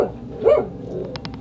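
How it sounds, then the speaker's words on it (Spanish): A dog on a small island with a reputation for dolls and the paranormal barks sharply once, close by, then gives a few quick, fainter yips. "Si escucháis un perro aquí es normal. Es el perro de la isla"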